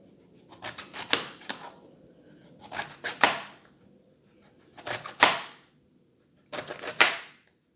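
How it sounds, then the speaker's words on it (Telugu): Four separate bursts of knife chopping tender eggplant on a board, each a quick run of sharp taps, separated by short pauses. "ఇప్పుడు ఈ వంకాయను కూడా ఇలాగ ముక్కలు చేసుకోవాలి"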